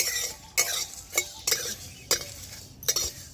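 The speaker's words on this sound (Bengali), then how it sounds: "তো এগুলোকে আমি দিয়ে দেবো সব একসাথে, দিয়ে শুকনো কড়াই হালকা করে একটু ভেজে নেব।" Whole coriander and cumin seeds dry-roasted in a dry kadai over low heat, stirred with a utensil in several distinct scraping, rattling strokes about every half second, quiet and close, with no talking.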